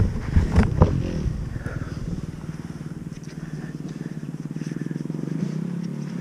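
A two-stroke dirt bike, a KTM 300 XC-W TPI or Husqvarna TX300 enduro, rumbles and clatters nearby, with a few sharp revs at first, then settles into a steady pulsing idle.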